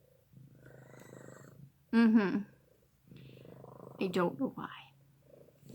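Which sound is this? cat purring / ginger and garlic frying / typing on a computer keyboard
cat purring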